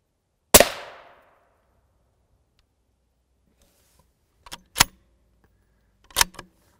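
An M855 rifle round is fired at steel body armor: one sharp, loud crack with a short ringing decay, followed by two fainter, sharp impact-like cracks a few seconds later against near silence.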